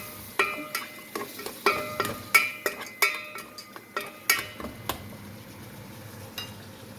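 A utensil stirs and scrapes through a frying pan of corn, shrimp and moringa leaves, giving sharp metallic clinks in an uneven rhythm over a soft sizzle. The clinks are close and moderately loud, with no talking.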